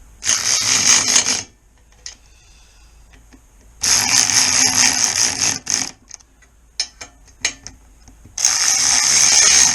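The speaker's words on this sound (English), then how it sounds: "ratchet and start snugging these up" A hand ratchet tightens the bolts on the sump of a 1988 Kawasaki ZX10B motorcycle fitted with a ZZR1100 sump. Three close, loud bursts of rapid clicking are separated by quieter pauses with a few stray clicks.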